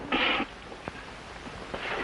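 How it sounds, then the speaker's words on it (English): A single short, fairly loud cat meow rings out in an indoor scene, then fades into quiet room tone broken by a couple of faint soft knocks. "There isn't a cat around here by any chance."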